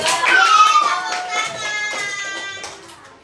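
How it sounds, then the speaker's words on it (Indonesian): Children in a classroom clap for a group, a burst of close applause mixed with high children's voices calling out, tapering off gradually. "Kita kasih tepuk tangan untuk kelompok 3."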